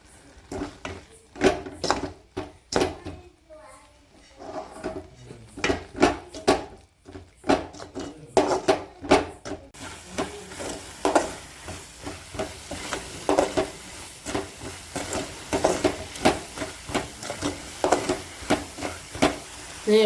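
Repeated scraping and stirring strokes as radish halwa cooks in a small pan over low heat, a rhythmic series of soft knocks with light sizzling, growing denser toward the end.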